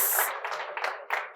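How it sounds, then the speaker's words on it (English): Brief bursts of clapping from a startup-week audience, a few quick sharp pulses at moderate volume fading in and out over about a second. "let's give them a big round of applause for taking time off to be with us today"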